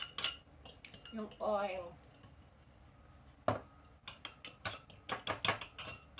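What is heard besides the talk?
egg being beaten with utensil in bowl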